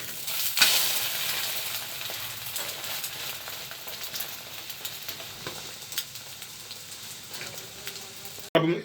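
Eggs sizzling and frying in a pan for an egg shami burger, a steady crackling hiss holding through the clip with a few sharper pops and a clatter near the end.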